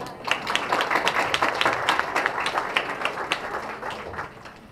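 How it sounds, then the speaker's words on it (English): Audience at a church gathering clapping in quick rhythmic bursts, many hands together in a patterned sequence of claps that fades slightly toward the end. "3 claps. 2 claps. 1 clap."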